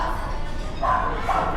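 A dog gives two quick, fairly loud barks, close by, over a low background murmur.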